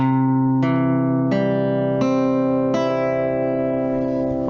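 An acoustic guitar chord is strummed slowly, five times at an even pace, each one ringing clearly with individual notes audible.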